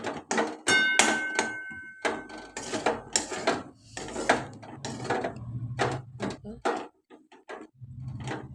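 A spoon scrapes and clinks against a pan while semolina upma with sugar is stirred, giving intermittent close scraping strokes and knocks. A voice talks over the stirring throughout.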